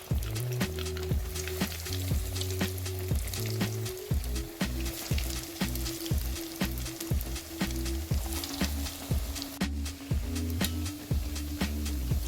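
A crispy breadcrumb-coated snack frying in hot coconut oil, with a steady crackling sizzle broken by regular sharp pops and ticks, close and unbroken throughout.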